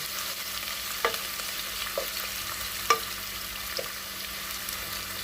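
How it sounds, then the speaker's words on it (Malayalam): Sliced onions frying in hot oil while being stirred, a soft steady sizzle broken by a few sharp scrapes and clacks of the spoon against the pan, close and alone. "ചൂടായ എണ്ണയിലേക്ക് ഈ സവോള ഇട്ട് കൊടുത്തിട്ടുണ്ട്."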